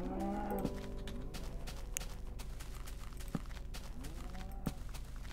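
Minecraft cows mooing in a few drawn-out calls at moderate distance, with light footstep sounds between them and no talk.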